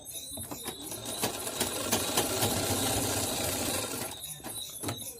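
A sewing machine runs while stitching a katori blouse, a steady mechanical whir that builds and holds in the middle before easing off, with sharp clicks and taps at the start and end.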